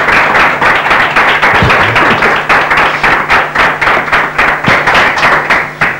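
Studio audience at a Catalan local talk show in Maçanet gives loud, sustained applause welcoming guest Joan Figueres, a dense and even wash of clapping close by with no talk over it.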